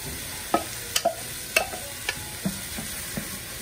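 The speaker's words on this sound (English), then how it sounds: "now we're gonna add the tomatoes in there" Tomatoes go into a pan of frying meat and potatoes for bistec con papas, followed by a series of soft scraping stir strokes and light clinks against the pan over a faint sizzle, close by and with no talking.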